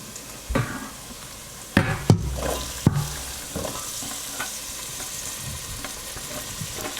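Garlic and onion fry in a pan with a low continuous sizzle, punctuated by a few sharp clanks and scrapes of stirring early on, then settling into steady quiet frying.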